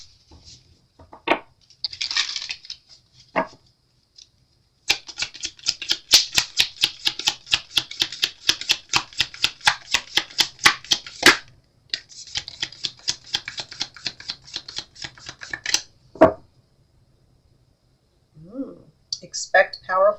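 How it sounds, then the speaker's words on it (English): Moonology oracle cards being shuffled and handled, long runs of rapid crisp riffling clicks broken by short pauses, close and fairly loud, with brief speech before and after the shuffling. "So let's get some Moonology cards for guidance."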